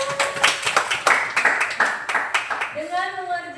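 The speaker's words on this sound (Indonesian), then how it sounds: "kasih aplaus untuk mereka" Students applaud classmates in a classroom lesson: a short, uneven burst of hand clapping with distinct individual claps, and a voice begins speaking near the end.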